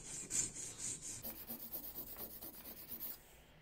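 Pruning shears blade rubbed back and forth on a water-soaked knife whetstone, a quiet, steady rhythmic rasping of repeated short strokes, close up with no talking.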